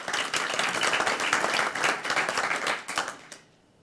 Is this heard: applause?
yes